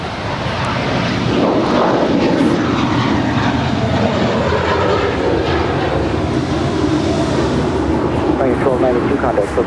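An American Airlines Airbus A321 departing LAX for Charlotte, its jet engines producing a loud, steady roar that persists throughout, with radio chatter faintly mixed in.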